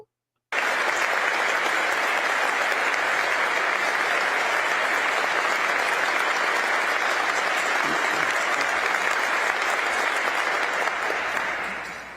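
Sustained audience applause from a large crowd, loud and dense, beginning abruptly and carrying on evenly for about twelve seconds before starting to fade.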